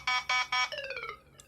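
A tablet plays its low battery alert: three loud buzzy beeps in quick succession, followed by a softer descending tone that trails away, with a faint short blip near the end.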